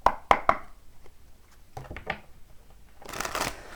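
Tarot cards being shuffled: a few sharp riffling snaps up front, scattered softer card slides and taps, then a brief burst of shuffling near the end, close and quiet.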